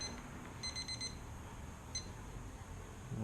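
Brewing timer for an all-grain mash beeping as it starts: a short run of quick, high electronic beeps followed by one more lone beep, faint over steady background hiss.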